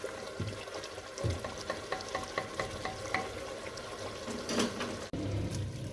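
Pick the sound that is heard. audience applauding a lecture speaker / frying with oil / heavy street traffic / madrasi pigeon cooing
frying with oil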